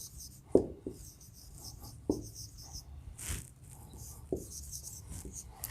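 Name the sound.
writing on a board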